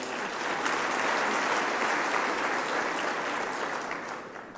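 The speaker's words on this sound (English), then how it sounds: "Can you give them a round of applause?" Audience applause at an NAACP Freedom Fund award evening, a full room clapping loudly and steadily before the sound tapers off near the end, with no speech over it.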